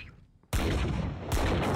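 Gunfire in a ranked Valorant match, a sudden loud burst of shots that starts abruptly and continues as rapid fire for over a second, briefly intensifying near the end.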